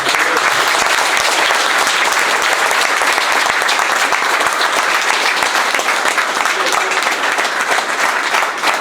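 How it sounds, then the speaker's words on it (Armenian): A standing audience at a music event gives sustained, loud applause, a thick continuous roar of clapping from many people that holds without a break. "նրանց պատվին եկեք բոլորս ծափահարենք"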